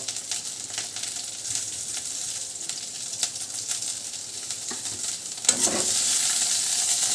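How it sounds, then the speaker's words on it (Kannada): Garlic, green chillies and curry leaves fry in hot oil, giving a steady close sizzle with occasional stirring taps, then a louder burst of hissing near the end. "ಬೆಳ್ಳುಳ್ಳಿ ಹುರ್ಕೋಬೇಕು ಮೆಣಸಿಕಾಯಿ ಹಾಕಬೇಕು ಕರಿಬೇವು ಹಾಕಬೇಕು"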